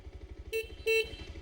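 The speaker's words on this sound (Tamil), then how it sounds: "ஆக்சுவலி ஹார்ன் சேஞ்ச் பண்ணியிருக்காங்கன்னு நினைக்கிறேன்." Two short honks from the horn of a 2025 Bajaj Pulsar 125 motorcycle, the second held longer, sounding close over a steady low engine rumble while riding.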